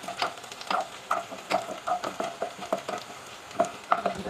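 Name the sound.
garlic frying in a pan for adobo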